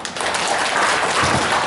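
A crowd at a New Year reception held at a wedding hall in Gumi claps, making a dense, steady burst of applause heard close and loud throughout.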